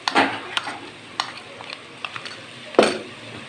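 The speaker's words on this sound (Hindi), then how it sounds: "ये वैसे भी पेस्ट है और घी गरम है, तो ये नाजरीन इसमें फ़ौरन जो है ना ये फ्राई हो जाता है" Ginger garlic paste hits hot ghee in a pan over browned onions and is stirred, giving a soft sizzle with several sharp scraping stir strokes, the loudest near the start and another toward the end.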